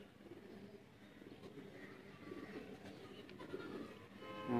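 Dubwala purebred pigeon cooing softly at a moderate distance, low repeated murmuring coos over steady background hum, with no talk.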